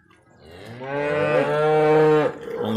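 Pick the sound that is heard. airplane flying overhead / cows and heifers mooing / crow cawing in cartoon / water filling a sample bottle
cows and heifers mooing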